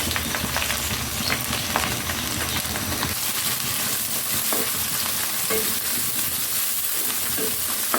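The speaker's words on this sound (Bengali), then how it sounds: "পেঁয়াজটাকে হালকা একটু ভেজে নেব" Chopped onions fry in hot oil in a pan for bhuna khichuri, a dense steady sizzle and crackle with stirring scrapes running throughout at close range, no talking.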